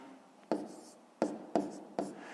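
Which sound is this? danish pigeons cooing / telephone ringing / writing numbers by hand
writing numbers by hand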